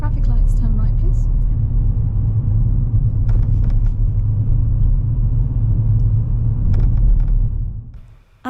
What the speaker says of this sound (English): as we're going uphill to the brow of this hill, she goes into third gear